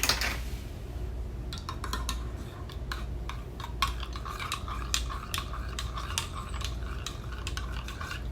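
A spoon stirs a yeast mixture in a bowl for whole wheat bread, making a steady run of light, quick clinks and scrapes against the bowl, close and clear with no talking.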